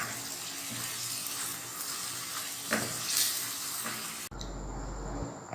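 Spiced goat liver (kaleji) frying on high heat in a home kitchen, a steady broadband sizzle with occasional stirring scrapes, close and continuous, ending in a sharp cut to a quieter hum.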